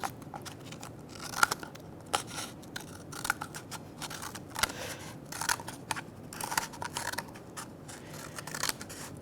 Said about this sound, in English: I'm going to stick one side of the scissors in it and then cut all the way around